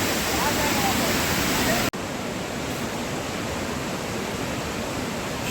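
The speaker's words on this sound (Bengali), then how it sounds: "শুধু ঝর্ণার আওয়াজটা শোনো।" The steady, dense roar of falling water at a waterfall near Ranchi, Jharkhand, heard close and loud as an unbroken rush, cutting briefly at one point before continuing at a slightly lower level.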